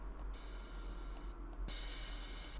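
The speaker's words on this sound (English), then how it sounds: "We have a crash," A crash sample from a music track, a bright washy noise burst swelling in near the end after faint ticking hits, played alone.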